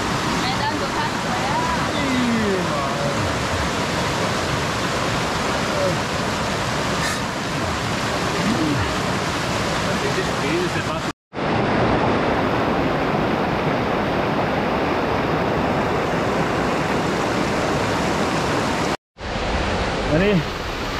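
A river rushes steadily in a continuous, loud wash of flowing water, unbroken apart from two brief cuts.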